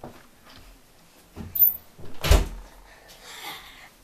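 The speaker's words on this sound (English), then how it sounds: "let me just close the door" A door is pushed shut indoors in a bedroom, a loud, close thump with a brief rattle in the middle of the clip, set between quieter handling sounds and room noise.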